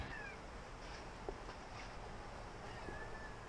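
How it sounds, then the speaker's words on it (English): Cat meowing outdoors near a boat under a tarp in a boatyard, a few faint, thin meows spaced apart over a steady low background hum. "I hear a cat."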